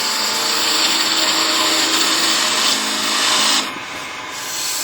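A skew chisel cuts a bevel into spinning wood on a lathe, giving a steady, loud, continuous hiss and rasp that drops slightly in level near the end, with no talking.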